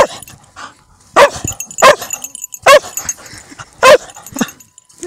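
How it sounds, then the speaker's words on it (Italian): Dog barking during a snow rescue exercise at Piani di Bobbio, four loud, close barks at regular intervals with soft whimpers and yips between them, no speech. "super, bravo cane"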